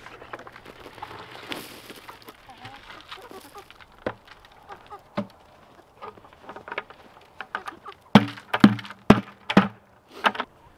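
Backyard chickens peck at dumped table scraps, giving a soft scattered patter with occasional clucks, then a quick run of sharper, louder pecks and clucks near the end.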